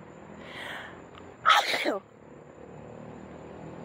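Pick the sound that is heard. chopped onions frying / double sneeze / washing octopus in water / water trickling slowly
double sneeze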